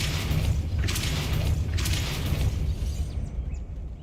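Depulso force spell cast in Hogwarts Legacy, a dense rumbling burst with bright crackling bands that holds steady for several seconds, then fades toward a quieter tail.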